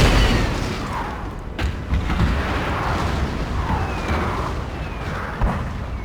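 Booming cannon artillery volleys in the Napoleon: Total War battle, sharp thuds at irregular intervals over a constant roar of battlefield noise and distant sirenlike whistles.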